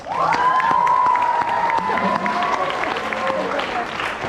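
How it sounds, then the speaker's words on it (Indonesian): A crowd of tenth-grade high school students claps loudly and cheers, with a sustained shout rising over the dense applause and chatter around it. "Tepuk tangan kelas 10."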